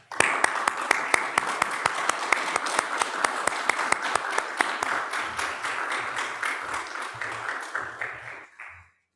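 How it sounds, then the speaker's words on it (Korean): A church congregation applauds during Sunday worship in a Korean church in Bloomington, with steady, rhythmic clapping in unison that is fairly loud and tapers off at the end, with a voice faintly underneath. "박수로 환영하겠습니다"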